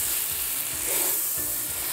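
A full stick of butter melts in a skillet for creamy baked macaroni and cheese, giving a steady, close, faint sizzle with light scraping and stirring underneath throughout.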